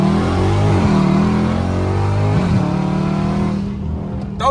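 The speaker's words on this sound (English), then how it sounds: "if you on the fence about Catless mirror, I say go on ahead and get them. You won't regret it. Sound good as fuck" Dodge Charger Scat Pack fitted with catless mid pipes revs loudly up close, a deep aggressive exhaust roar that climbs and dips in repeated surges before easing off near the end.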